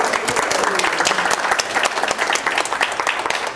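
An audience applauds an evening speaker, Dr. Lewis, with dense, sustained clapping from a crowd that stays loud and even throughout, with no pause.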